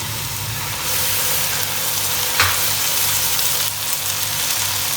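Garlic-ginger paste fries with softened onions in a pot, giving a steady, moderate sizzle with a faint low hum beneath and a brief stir partway through.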